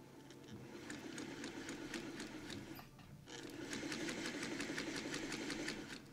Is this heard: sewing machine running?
yes